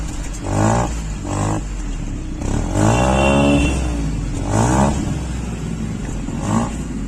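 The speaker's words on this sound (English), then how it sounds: "That exhaust sound over there is coming from the i20N line" A Hyundai i20N Line's three-cylinder engine revs repeatedly, its exhaust rising and falling in a raspy, burbling drone, close by and loud, with a longer rev in the middle.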